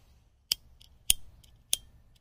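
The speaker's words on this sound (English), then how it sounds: "That's me lighting a cigarette." Three sharp metallic clicks spaced about half a second apart, a lighter's flint wheel being struck to light a cigarette, over a quiet low rumble.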